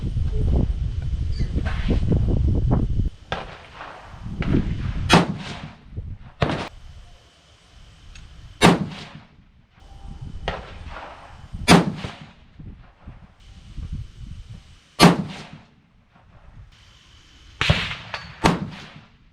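A 6.5 PRC rifle loaded with Hornady 153gr A-Tip bullets over Retumbo powder fires a string of sharp, loud shots a few seconds apart, each followed by a short echoing decay, after a low rumble at the start.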